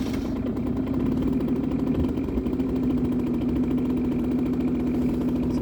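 A Hyosung Sense scooter in poor condition idles steadily nearby, a continuous low puttering hum with a constant pitch and no revving.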